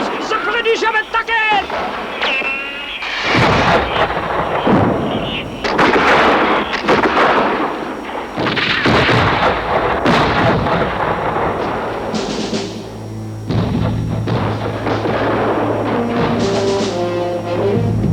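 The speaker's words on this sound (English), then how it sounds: "Fire the cannons!" Cannons boom in an animated film's battle scene, heavy repeated blasts and rumbling bursts mixed with shouting voices and a music score.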